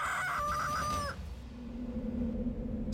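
Chickens on a farm raised for eggs, with a rooster crowing loudly up close in one sustained call that cuts off, followed by quieter low clucking and farm background.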